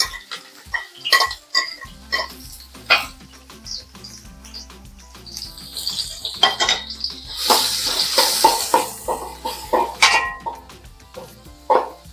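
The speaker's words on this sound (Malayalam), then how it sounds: "ഇതിലേക്ക് സവാളയും പച്ചമുളകും കൂടെ ചേർത്ത് കൊടുക്കാം." Onion and green chilies go into hot oil in a pan, bringing a burst of sizzling with clanks and scrapes of a utensil against the metal pan.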